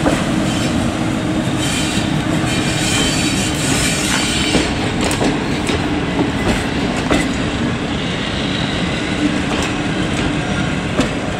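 A train rolls steadily along the rails, a loud continuous rumble with rhythmic clacks of wheels over track joints and occasional squeals.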